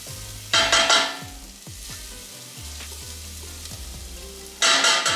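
Bay leaves pressed against a hot soup pot for lentil squash soup sizzle and fry, with two loud bursts of stirring and scraping over a steady crackle.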